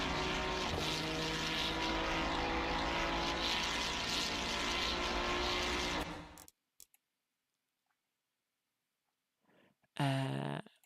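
Ford Mustang GT3 race car engines roar in the Assetto Corsa Competizione racing game, a steady loud drone for about six seconds before cutting out, then a brief burst near the end.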